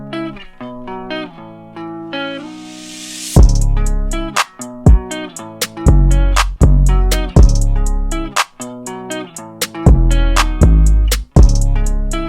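A hip-hop beat built from a melodic sample that opens alone before booming 808 bass, kick, clap, snare and crisp hi-hats drop in, pounding loud and punchy in a steady groove.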